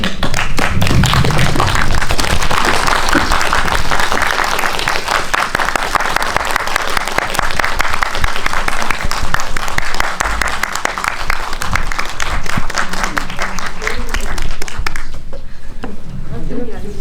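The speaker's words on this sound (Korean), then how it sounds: "여러분들께서 큰 박수, 응원 박수 부탁드리겠습니다" Loud, sustained applause from a film screening audience as the director and lead actors Ahn Sung-ki and Yoon Yoo-sun walk in, steady dense clapping lasting well over ten seconds before thinning out, with some voices mixed in.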